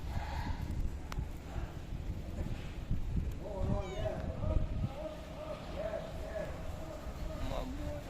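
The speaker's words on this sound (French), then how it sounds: "Ce petit chat." A thin kitten gives a couple of thin, wavering meows amid outdoor street noise and nearby chatter in Dumai, Indonesia.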